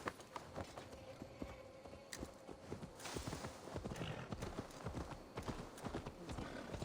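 Rhythmic clip-clop of horse hooves galloping on the ground in Assassin's Creed Valhalla, a steady, fast, close beat running throughout with faint ambient forest background.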